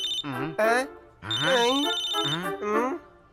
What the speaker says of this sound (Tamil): சார், அங்க அடிக்குது சார். நீங்க ஏன் போனை எடுக்க மாட்டேங்கிறீங்க?